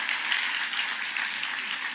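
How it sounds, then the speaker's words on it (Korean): A church congregation gives a sustained round of applause during a Sunday sermon, a steady, even wash of many hands clapping heard from a moderate distance. "박수로 우리가"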